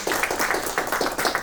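An audience at a Baltimore-area film event applauds steadily, a dense wash of many hands clapping at moderate distance with no break.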